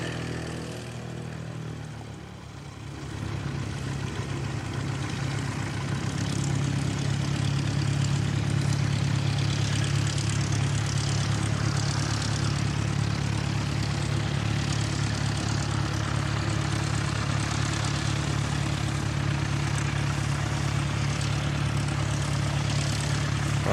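A propeller aircraft at Christchurch Airport rolls away after a long engine warm-up, its steady droning hum holding loud and continuous with a low tonal throb, swelling slightly early on before staying even throughout.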